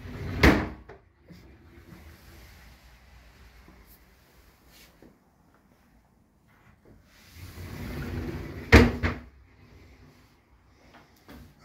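Two-door wooden wardrobe in a furnished apartment, its doors opening and closing with two distinct knocking thuds several seconds apart, each followed by soft rubbing and creaking of the doors, close and without talk.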